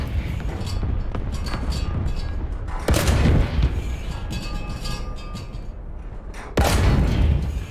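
Tank gun firing in the video game War Thunder, two heavy booming shots a few seconds apart over a continuous engine rumble and scattered battle noise.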